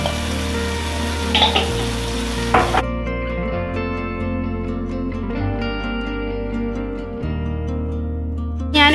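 Masala cooking in a pan with three large tomatoes and turmeric powder added for a beef kothu biriyani, a steady close sizzle with stirring clatters and scraping of the spoon, no talking.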